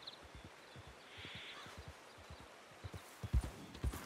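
Horse hooves clip-clopping in the Western video game Red Dead, a steady close rhythm of soft, distinct hoofbeats, growing louder and sharper toward the end.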